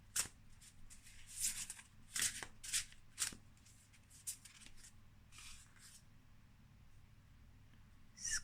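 Oracle cards are shuffled by hand in several quick crisp riffling bursts, close and soft, followed by a pause and another short shuffle at the end, with no talking.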